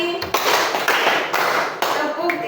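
A classroom of students claps together in rhythm, several loud group clap bursts in quick succession, with voices mixed in.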